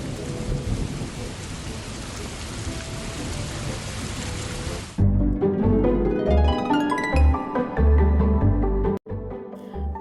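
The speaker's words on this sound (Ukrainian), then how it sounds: "раптом дощ пішов навскіз" Steady heavy rain hisses for about five seconds as a fairy-tale sound effect, then gives way to deep rumbling thunder with rain continuing.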